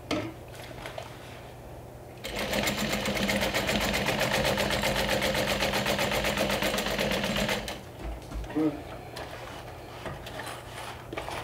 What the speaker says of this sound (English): Top stitch this part.